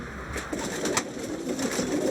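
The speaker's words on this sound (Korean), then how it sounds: "3시간 뒤 GPS 추적 장치를 단 비둘기가 돌아왔다" A pigeon fitted with a GPS tracker coos with soft, low throaty calls repeated over a steady outdoor background, close and moderately loud.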